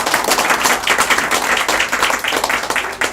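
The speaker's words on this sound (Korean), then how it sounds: "큰 박수 다시 한번 보내주십시오" Audience applause at a political party event in front of the National Assembly, a dense, continuous wash of many hands clapping at close range, loud and steady throughout.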